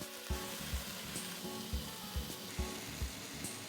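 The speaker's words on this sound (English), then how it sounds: "I sear the meat at high heat until it gets a nice dark brown surface." Beef sears at high heat in a pan for tacos, giving a dense, continuous sizzle. Soft rhythmic scrapes or thumps of the meat being moved recur about every half second.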